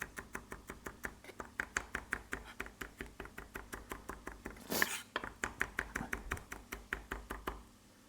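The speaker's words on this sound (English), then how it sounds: "Rough chop." A kitchen knife chops food roughly into chunky pieces on a cutting board, a fast, steady run of close, crisp knocks for about eight seconds with one louder thud near the middle.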